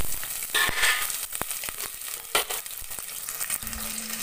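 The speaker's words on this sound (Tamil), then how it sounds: "ஒரு 20 துண்டு வந்து சின்ன வெங்காயம், 1 துண்டு அளவுக்கு இஞ்சி, ஒரு 10 பல்லு பூண்டு, இதையும் நம்ம இதோட சேர்த்து வதக்கிட்டு போகிறோம்" Shallots, ginger and garlic sautéing in a pan for a roadside-style salna, a steady soft sizzle broken by brief stirring scrapes and clatters, close and alone without talk.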